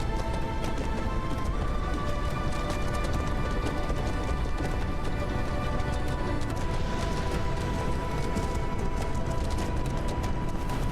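Horse hooves clip-clop in a steady, continuous rhythm as a rider travels downhill in a video game, set against a dense, unbroken layer of game music and ambience.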